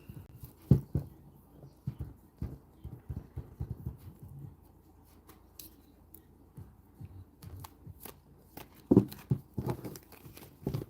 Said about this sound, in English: I just keep sitting here shuffling cards